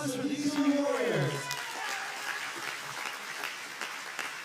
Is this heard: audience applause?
yes